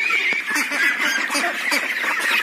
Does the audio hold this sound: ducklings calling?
yes